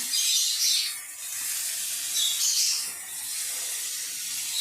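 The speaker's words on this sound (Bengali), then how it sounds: "আমি এবার একটা নেড়ে চেড়ে ভেজে নেব।" Turmeric, chilli powder and salt sizzling in a hot pan as they are stirred and fried, a steady broadband hiss swelling and easing in waves, with no talking.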